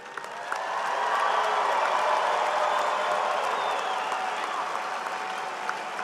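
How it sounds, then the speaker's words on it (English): Families and friends in a large crowd applaud graduates at a fall university commencement ceremony, sustained dense clapping that builds quickly and holds steady with a few scattered whoops. "Families and friends, one more time, applaud your graduates."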